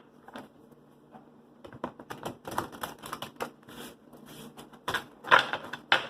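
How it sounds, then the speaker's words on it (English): A deck of tarot cards is shuffled in a series of crisp, clattering bursts that grow busier and louder, with a quiet pause before the final riffles. "So I'm going to shuffle this deck."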